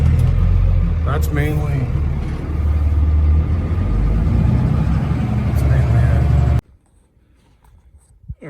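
A homemade off-road wrecker doing a tank turn on grass churns out a loud, steady engine roar with its left-side wheels spinning, someone talking over it before it cuts off abruptly into near silence.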